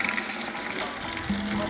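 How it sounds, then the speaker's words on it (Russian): Water from a borehole pump rushes steadily from a tap in a short, loud, continuous burst of broadband hiss. "Посмотрите, с каким напором идет вода."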